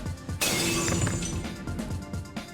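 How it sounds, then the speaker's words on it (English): A sword in the Fate/stay night visual novel shatters like glass: a sudden loud crash of breaking shards bursts in and rings on with a dense, crackling tail, close and alone without talk. "the sword that cut through his arm shatters like glass"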